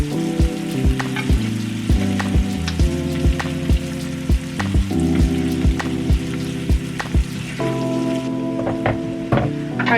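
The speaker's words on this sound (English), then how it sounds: "So to this I'm going to add about a tablespoon of butter. And I'm just going to melt that butter." Butter, about a tablespoon, melting in a pan for smothered pork chop gravy, giving a steady sizzle and crackle with repeated sharp pops, close and fairly loud, with no talking.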